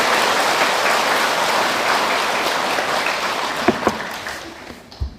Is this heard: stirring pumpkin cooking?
no